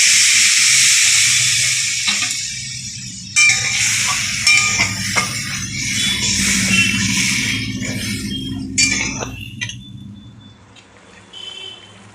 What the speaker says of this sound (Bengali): মশলা বেটেছিলাম তার ধোয়া জল ছিল উষ্ণ গরম জল সেটা দিয়ে দিলাম